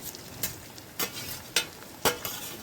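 Chopped tomato and slightly dried chili roast in a pan over a wood-fired stove, with a low steady sizzle broken by four or five sharp, evenly spaced scrapes of a spatula stirring the mixture.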